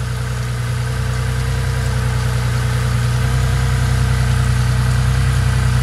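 A Ford Mustang engine idles steadily while smoke pours off the headers, a loud, close, continuous low rumble with an even pulsing beat and no voices.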